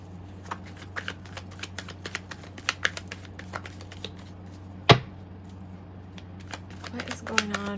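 Tarot cards are shuffled in a steady riffling patter of crisp little snaps, with a sharper slap midway and a brief flurry near the end, fairly close and quiet.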